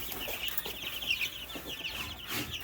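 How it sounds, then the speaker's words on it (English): Laying hens on a farm cluck and murmur close by, a busy overlapping chatter of several hens. "Now off to the laying chickens."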